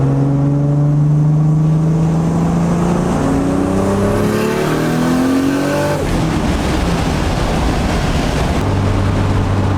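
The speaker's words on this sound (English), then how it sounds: "Wow, car actually feels kind of quick now." A 700hp Toyota Supra on Toyo R888 tires accelerating hard, loud close engine tone climbing steadily in pitch through a gear, a brief shift dip, then a rough roaring pull with heavy road and wind rush.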